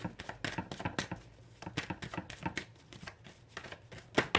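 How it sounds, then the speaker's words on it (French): A tarot deck is cut and handled at close range, producing quick, crisp card slaps and riffles in an irregular rhythm with no talking. "je vais faire une coupe"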